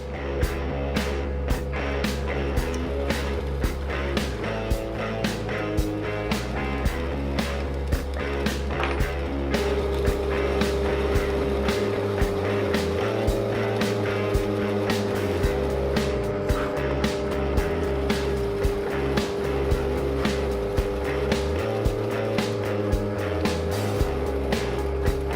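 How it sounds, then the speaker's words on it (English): A drill press running a big Forstner bit bores into a wooden lamp block, giving a continuous low motor rumble with cutting noise and small repeated ticks, close and without talk. "So I use a big Forstner bit with the depth top of my drill press."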